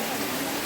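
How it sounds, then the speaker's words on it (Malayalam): Rain falling outside in Kerala during the monsoon season, a steady broadband hiss of rainfall heard briefly and without voices. "പുറത്താണ് മഴ."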